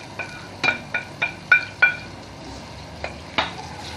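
Tomato going into oil already hot in a pan while cooking tikerbabine, a Kabyle dish, giving a string of short stirring and spatula clacks over a low, steady frying sizzle, close by and with no talking.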